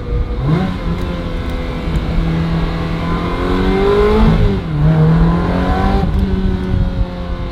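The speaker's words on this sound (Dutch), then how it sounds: "Doe eens een downshift." A Ferrari 360 Spider engine revs hard through a series of rising and falling pitch sweeps, loud and close, with sharp blips as the gears change down.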